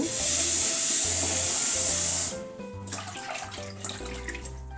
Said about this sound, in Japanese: もうちょっと洗いましょうか。